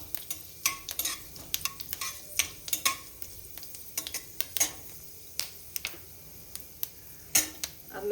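Fennel, fenugreek and dried red chillies toast in a pan with a faint sizzle under sharp, irregular clicks and scrapes of a spoon against the pan, heard close and with no talk.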